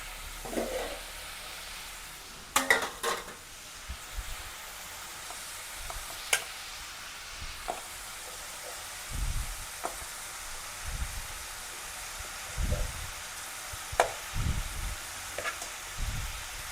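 Vegetables cooking in a pan for noodles: quiet steady sizzle with intermittent stirring clatters and scrapes of a utensil against the pan, fairly faint and close, no voices.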